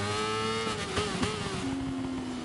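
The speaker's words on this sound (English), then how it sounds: "So as we do jump on board with Tom on board the factory BMW" Onboard roar of a factory BMW race bike at Vallelunga. The engine holds a loud, strained tone close to the microphone, shifting pitch as it accelerates through a corner.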